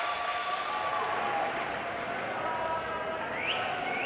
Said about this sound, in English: The crowd are going absolutely insane down here.